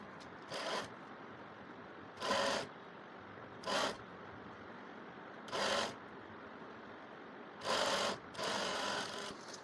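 A sewing machine stitches a puff sleeve in short separate bursts, six runs of whirring stitching with quiet pauses between them, close and clear with no talking.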